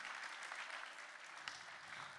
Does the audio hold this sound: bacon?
no